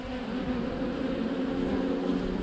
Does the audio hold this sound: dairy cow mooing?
no